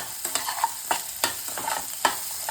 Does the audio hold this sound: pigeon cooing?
no